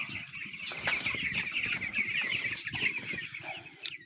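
Ten-day-old broiler chicks in a poultry shed keep up a dense, constant chorus of high cheeping, with occasional soft wing flutters and shuffling close by.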